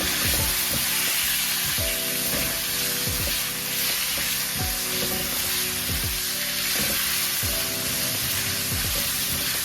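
Chicken frying in a pan, a loud continuous sizzle with repeated scraping stirs every second or so, close and steady, with no talking.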